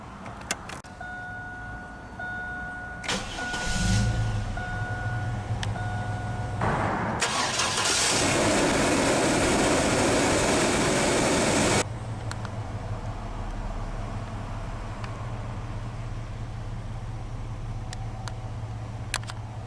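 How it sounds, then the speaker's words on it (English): A 1998 Chevrolet Blazer LS 4-door 2WD starts up: a few soft clicks and a chime, then a loud cranking whir as the engine catches, settling after several seconds into a steady low idle, heard alone. "let's go ahead and start the engine."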